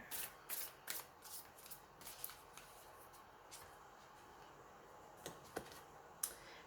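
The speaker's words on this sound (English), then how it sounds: "I'm just going to pull a quick spiritual guidance card" A deck of spiritual guidance cards being shuffled gives soft, quick riffling flicks and light clicks, faint and close, with short bursts repeating across a quiet background.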